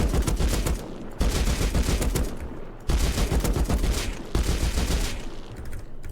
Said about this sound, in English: this is what the headshot sounds like